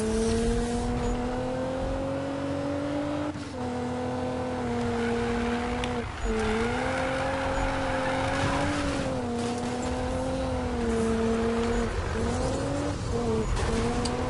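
A racing car engine in the Need for Speed video game drones steadily, its pitch sliding up and down with shifts and revs, loud and continuous with no talking.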